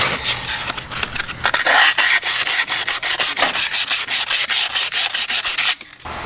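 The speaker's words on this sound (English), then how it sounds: "And then I'll take some sandpaper. I got some 150." Hand sanding with 150-grit sandpaper, loud, close rapid back-and-forth rasping strokes in a steady rhythm, with no talking.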